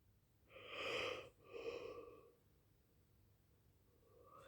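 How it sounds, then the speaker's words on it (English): A single human yawn, a drawn-out breathy voiced exhale rising then fading over about two seconds, fairly close and otherwise quiet. "Sorry guys, I had to yawn."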